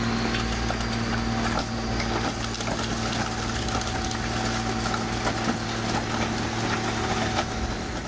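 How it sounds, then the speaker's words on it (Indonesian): A Big Mac Granutech portable hydraulic car crusher flattens a car: a loud, steady engine and hydraulic drone runs throughout, broken by scattered cracks and crunches of metal and glass giving way. "Lalu operator mengaktifkan hidrolik dan menghancurkan mobil serata mungkin."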